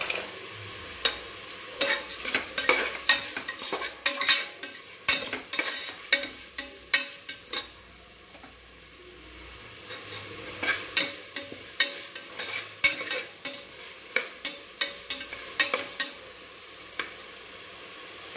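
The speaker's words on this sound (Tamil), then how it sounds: "தக்காளி நல்லா வதங்கட்டும் ஒரு 2 நிமிஷம்." Chopped tomatoes sauté in a pan for a Kovai-style rice and dal dish, with a steady sizzle under repeated sharp scrapes and knocks of a spoon stirring against the pan, close up and with no talk.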